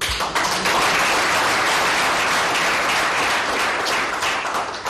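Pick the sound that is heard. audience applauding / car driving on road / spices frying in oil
audience applauding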